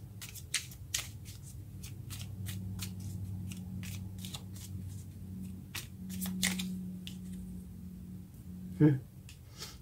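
Tarot cards shuffled and drawn, crisp repeated flicks and snaps of card stock at close range, a fairly quiet rhythmic riffle with a sharper snap near the end and a voice speaking softly underneath.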